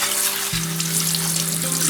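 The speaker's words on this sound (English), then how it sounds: "I just put my 2 packs of cranberries in a hot skillet, 1 cup of sugar" Two packs of fresh cranberries with a cup of cane sugar hitting a hot skillet; a dense, steady sizzle and hiss with a low hum underneath, close and continuous, no talk.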